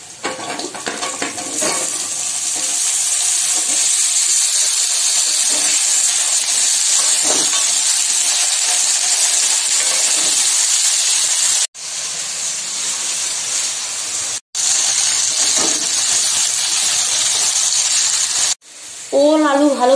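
Elephant foot yam and potato fry in hot oil for papaya stalk curry, giving a steady, close hissing sizzle that continues throughout with a few brief gaps.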